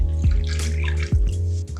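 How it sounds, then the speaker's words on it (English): A cup of starchy pasta water poured into a pan with clams and fregola on the stove, a loud close splash and gurgle with a couple of sloshing surges, no talking. "Let's put in a cup of pasta water to start right away."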